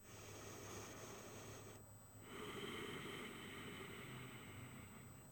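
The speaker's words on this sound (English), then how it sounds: "just find some deep, slow ujjayi breaths." Slow, deep ujjayi yoga breaths with a hollow, ocean-like rush, one long exhale then an inhale, faint and close against a quiet background.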